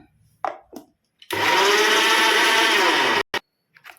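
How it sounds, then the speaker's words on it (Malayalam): A mixer grinder blends tomato and coriander leaf chutney in a jar, whirring loudly and steadily for about two seconds before cutting off abruptly, with brief clicks and handling noises before and after. "ഇത് നമ്മൾ മിക്സിയിൽ അടിച്ചെടുക്കുകയാണ്"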